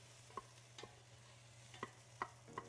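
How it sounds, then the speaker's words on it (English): Spoon stirring a creamy white bean chicken enchilada soup in a pot, a few soft scraping clinks spaced irregularly over a quiet low hum, fairly faint and close. "Gonna go ahead and mix this around a little bit to get the flavor."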